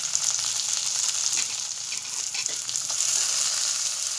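Dried fish frying in oil with jackfruit seeds just added, giving a steady, dense sizzle that carries through without pause, close and fairly loud, with slight surges in the bubbling and no voices.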